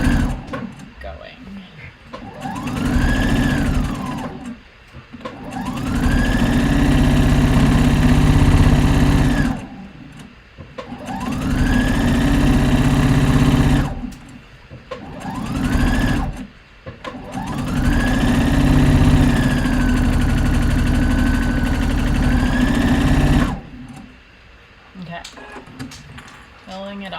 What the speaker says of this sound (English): we got to the corner, needle down, pivot, and keep going.